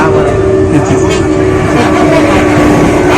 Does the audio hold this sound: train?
yes